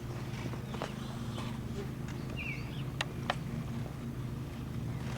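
A mare's hooves clop softly and irregularly as she shifts and moves about, over a steady low rumble of background noise.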